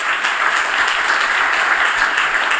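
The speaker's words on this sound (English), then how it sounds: "Please give him a warm applause." Warm audience applause welcoming a lecturer before a talk on the world history of morality; steady, dense clapping from a full room, loud and continuous for the whole stretch.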